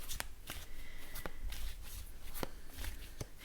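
Connolly Tarot cards being shuffled by hand, a steady run of soft papery riffles and flicks with sharper card snaps at irregular intervals, close up and alone without talk.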